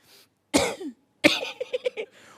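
A voice imitates coughing: two sharp, harsh coughs about a second apart, the second followed by a quick series of short hacking bursts, close and loud.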